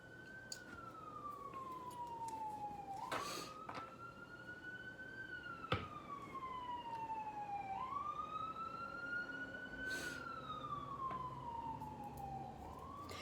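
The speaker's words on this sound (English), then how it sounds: "You hear the siren?" A wailing siren sweeps up and down in long repeated cycles, fairly close, over steady traffic rumble with a sharp knock partway through.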